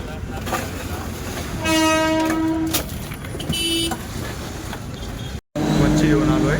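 Passenger train running under a steady rumble, with two bursts of horn or whistle in the middle, a short dropout, then the rumble resumes; voices talk throughout.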